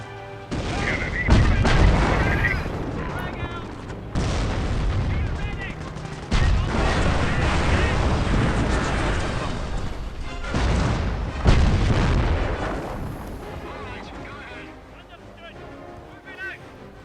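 Rapid bursts of gunfire and heavy booming artillery from a Company of Heroes Mobile battle, loud and dense with repeated explosive hits, with a voice talking over the combat.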